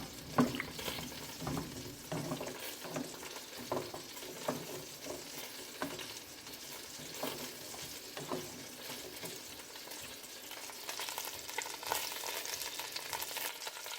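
Water boils in a pot with corn and sazon seasoning, a constant bubbling, crackling hiss, punctuated by a few soft clicks and stirring sounds.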